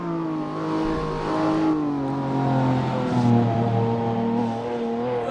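A Lamborghini Aventador SV's petrol engine in Assetto Corsa on the Top Gear test track holds a loud, steady roar, its pitch wavering as it climbs and eases under sustained throttle, with no talk over it.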